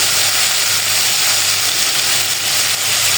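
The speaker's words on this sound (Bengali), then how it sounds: "মরিচের গুঁড়া দিয়ে এখন ভালোভাবে মশলাটাকে কষাবো" Spice paste with turmeric and chili powder frying hard in a pan for a sea fish bhuna, a loud steady sizzle close up with no voices.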